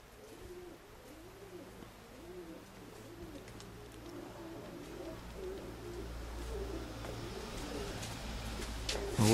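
Pigeons at a breeder's loft coo in a steady rhythmic series of low burbling calls, moderately close, over a quiet background that grows into louder rustling and noise toward the end.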